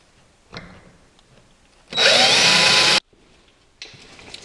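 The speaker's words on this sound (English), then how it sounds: "we're going to drill a 1/4 inch hole" A power drill bores a 1/4 inch hole through the outside edge of a wooden bed rail on a Murphy bed, one loud, steady burst of about a second with quiet shop sounds around it.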